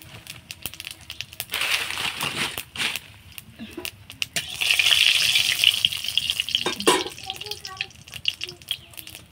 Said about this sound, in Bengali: তেলটা আমার গরম হয়ে গেছে। এখন আমি এর মধ্যে দিয়ে দেব গোটা জিরে